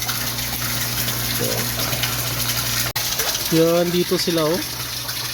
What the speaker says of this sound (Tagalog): nagdagdag po tayo ng tubig habang nag-drain po siya